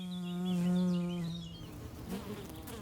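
Honeybees forage on hollow holewort blossoms, a close buzzing drone with a steady wing-beat hum that swells, then fades as the bee moves off.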